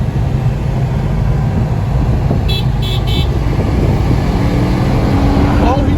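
A Honda car engine, a 2019 Civic Si or 2008 Accord V6, roars loudly and continuously under acceleration during a race, its intake noise steady and close with faint brief tones partway through.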